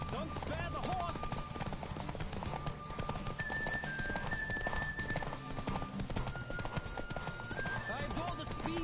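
A horse gallops in The Witcher 3 video game, with rapid, steady hoofbeats that run without a break through the whole stretch, mixed with game sound and voices.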